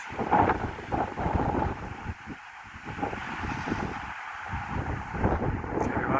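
A strong gust of wind sweeps across a campsite on a windy day in Flagstaff, Arizona, roaring steadily with heavy microphone buffeting and brief lulls in between.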